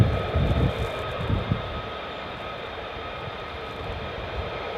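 An F-15 Strike Eagle jet engine idling on the runway at RAF Lakenheath, a steady distant whining roar with low rumbling swells early on, continuous and unchanging.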